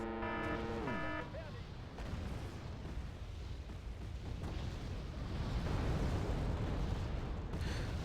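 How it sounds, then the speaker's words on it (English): Artillery rumbles and booms in the Wargame: Red Dragon battle game as shells destroy a Milan anti-tank unit: a brief tonal unit sound at the start, then continuous low blasts and crackling, distant-sounding and moderately loud. "Some artillery or something destroying my Milan"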